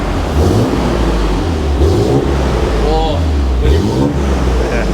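The RB26 engine of a Nissan Skyline R34 GTR rumbles low and deep through a new exhaust, rising in a few short revs under people's talk.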